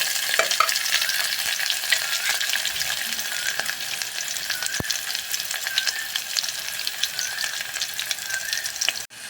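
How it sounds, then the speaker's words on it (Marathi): Curry leaves, onion and garlic frying in hot oil with mustard seeds and asafoetida for Karnataka tomato sambar, giving a loud, continuous bright sizzle with crackling pops, close and alone. "आता कढीपत्ता घातले, कांदा, लसूण, हे सगळं घालून आता जरा भाजणार"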